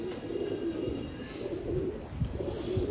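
A pigeon coos softly in a repeating low murmur, close by and steady across the moment, with faint background rustle and no talking.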